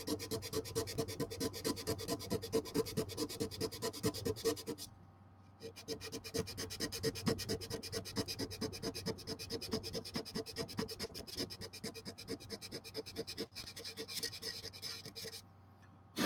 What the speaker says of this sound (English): we're going to take a small piece of sandpaper and clean that